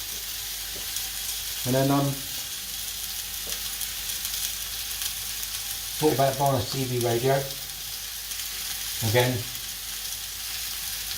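Pork chops sizzle in a frying pan with a constant, even hiss that runs the whole time, while someone talks in short phrases over the frying.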